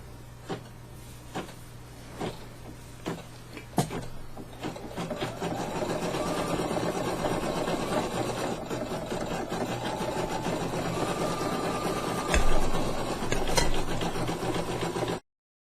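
An embroidery machine stitches a satin-stitch border on an appliqué, a steady mechanical whirring hum that runs continuously, growing slightly busier and louder partway through, with a few sharp clicks of the mechanism.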